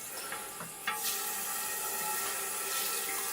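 Water runs and splashes onto glued wooden bed frame parts during a large glue-up, a loud steady hiss that starts abruptly after a few soft taps and continues without pause.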